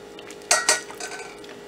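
Spoon or ladle clinking against a pot while tripe soup is stirred at home, two sharp metallic knocks followed by lighter scraping, close and alone.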